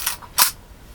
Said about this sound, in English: This is what's called a leaf shutter. It's a bit like the aperture, it just opens up and closes to expose the film.